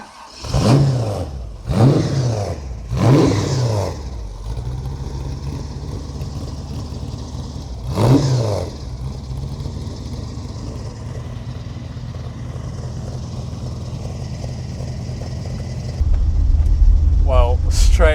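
MG TF sports car engine revving hard in repeated surges while driving, then settling into a steady drone with a louder push near the end, heard from inside the car as people talk over it.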